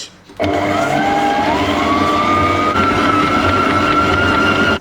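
Electric mixer beating soft butter for Basque cake dough, a loud steady whirring drone that starts abruptly and runs continuously, its pitch rising slightly as the motor works through the butter.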